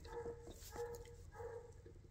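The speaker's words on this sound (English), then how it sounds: "the doggy next door is barking his fool head off" A neighbour's dog next door barks in three short, separate bursts, faint and somewhat distant across an otherwise quiet outdoor scene.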